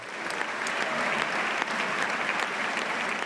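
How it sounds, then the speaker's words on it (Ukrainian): Sustained applause fills a hall of the US Congress as lawmakers greet the Ukrainian president before his speech, dense even clapping from a large crowd throughout. "Український президент Петро Порошенко в американському конгресі перед виступом йому аплодували понад три хвилини."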